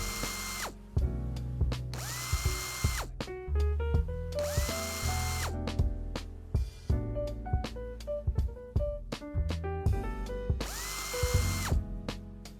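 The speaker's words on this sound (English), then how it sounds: "Remove the 2 armrest bolts and remove the 4 center console screws." A power tool buzzes in repeated short bursts as it takes out armrest bolts and center console screws in a 2019-or-later Hyundai Veloster N interior, with ratcheting clicks between the runs, close and clear with no talking.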